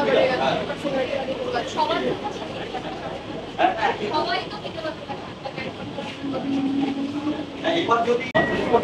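An AC local train rumbles and clatters as it pulls into Sodepur station, with passengers chattering and talking throughout and a brief tonal whine near the end.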